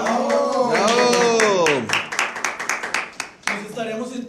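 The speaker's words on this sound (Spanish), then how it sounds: "Un aplauso para ¡Bravo!" Singing fades out, then about a dozen sharp claps from a church congregation at Palm Sunday Mass, some uneven, with a brief pause before a voice returns over the last few.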